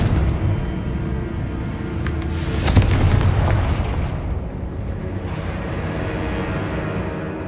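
Fiery Confringo blast spells detonating in Hogwarts Legacy combat, a dense rumbling boom swelling midway over continuous low battle noise, with scattered crackling bursts and no voices.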